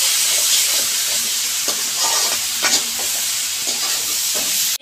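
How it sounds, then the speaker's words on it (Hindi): A potato and aubergine curry with spices is stir-fried in a pan: steady loud sizzling and hissing throughout, with repeated scraping and clinking from the spoon stirring the vegetables. "अब हम इन सारे मसालों को डालने के बाद अच्छे से भून लेंगे सब्जी को।"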